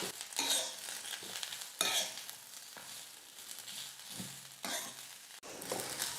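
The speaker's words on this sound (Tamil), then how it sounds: "தேங்காய் சேர்த்துட்டு 1 நிமிஷம் நல்லா வதக்குனா போதும்." Ridge gourd peel and grated coconut are stir-fried in a pan, with a soft sizzle under repeated scraping strokes of a spoon coming in bursts, quiet and close.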